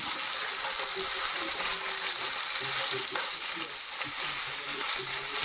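Onion being stirred into simmering broth for mustard rabbit, a steady sizzling bubble with soft scraping stirs throughout, close and continuous.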